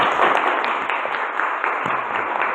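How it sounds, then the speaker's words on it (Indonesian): Audience of teachers clapping together at the close of a training session, a continuous bright wash of many hands, fairly loud and unbroken with no talk over it. "Tepuk tangan buat semuanya."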